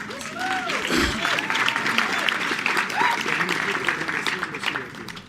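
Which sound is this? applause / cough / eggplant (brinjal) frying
applause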